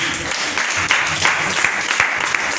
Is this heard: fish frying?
no